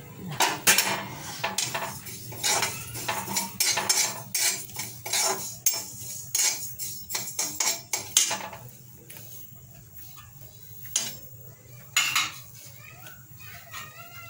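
Cumin seeds stirred and dry-roasted in a pan, heard as repeated metallic scrapes and clinks of a spoon against the pan, busy and close at first, then thinning to sparse taps.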